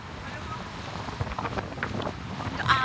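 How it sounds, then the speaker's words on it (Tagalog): Strong wind buffets the microphone in a steady roaring rush, with gusts swelling louder and brief Filipino speech underneath. "Ang hangin, grabe."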